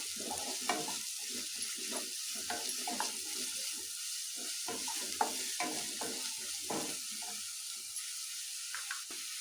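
Finely chopped garlic and green chillies fry in hot oil in a pan, a steady close hiss of sizzling broken by repeated scraping stirs of a utensil against the pan.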